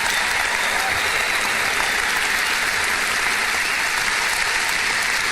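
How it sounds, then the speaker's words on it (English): A large commencement crowd at Michigan State University in 2009 applauds loudly and steadily, a dense unbroken wash of clapping filling the whole stretch. "let's give these Americans a real humdinger of an applause"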